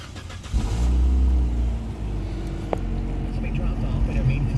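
A 2008 Suzuki Forenza sedan's engine cranks and catches, then settles into a steady, close idle with a low rumble, while a person talks over it.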